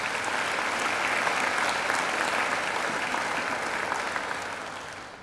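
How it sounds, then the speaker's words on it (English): A graduation ceremony audience gives a sustained round of applause, dense even clapping from a large hall crowd that holds steady and then gradually fades toward the end. "I think Phil deserves another great round of applause"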